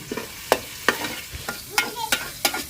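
Chicken curry frying in a pan with tomato, heard as a soft sizzle punctuated by about seven sharp, evenly spaced spatula scrapes and stirs, close and clear.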